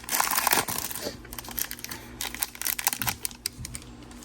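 Football trading card packs from 2024 Prizm Draft Picks boxes are torn open: crisp foil crinkling and tearing at close range, in busy bursts with short pauses.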